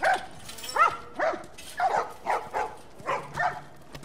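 Dogs in The Last of Us video game bark in a quick series of about eight yelps and woofs, moderately close and fairly steady in rhythm, with no voices over them.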